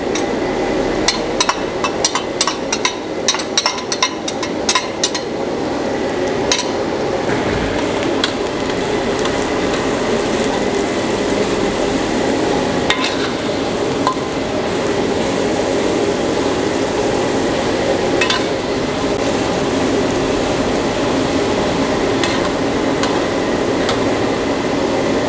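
Shallots and garlic fry in a pan, a continuous close hiss of sizzling oil with rapid clicking taps of a utensil early on and occasional sharper knocks.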